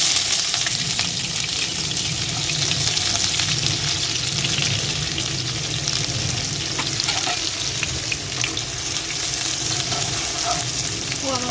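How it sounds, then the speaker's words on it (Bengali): Chopped onion frying in hot oil to make crispy fried onions, a loud, dense, continuous sizzle heard up close with occasional stirring. "এই পেঁয়াজটা এবার আমরা এই গরম তেলটার মধ্যে ছেড়ে দেবো বেরেস্তা করার জন্য"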